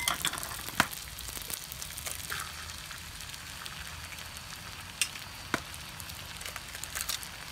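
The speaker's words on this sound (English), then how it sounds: "Then you want to crack your eggs into it." Eggs cracked into hot oil in a wok with noodles: a soft, steady frying hiss with a few sharp taps and crackles scattered through it, fairly quiet and with no talking.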